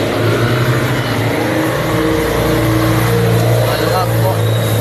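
Road traffic on Manuel L. Quezon Avenue, a steady loud drone of moving cars and engines close by, with a low rumbling hum running under the whole stretch.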